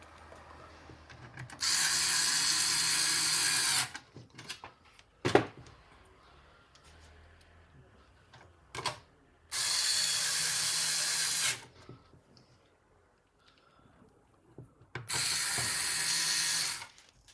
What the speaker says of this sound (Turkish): Testini yapıp şu şekilde ondan sonra yandaki bulunan kapaklarını vidalıyorum